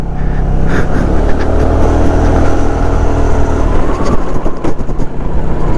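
Small-wheeled scooter engine droning steadily at high revs on a sandy road, loud and close, with rising revving and rougher bursts near the end.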